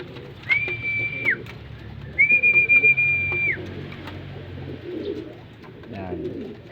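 Racing pigeons in a loft coo and call, mixed with two long steady whistle tones near the start, under a constant room murmur.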